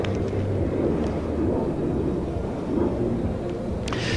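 A Eurofighter Typhoon jet making a fast flypast at a NATO air show, a loud, broad roar sustained throughout with a rumbling low end.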